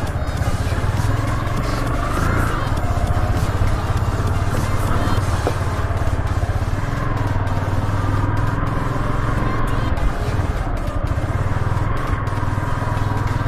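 A Yamaha R15 motorcycle engine drones steadily while riding, a loud continuous hum with wind rush and faint clatter, unbroken throughout.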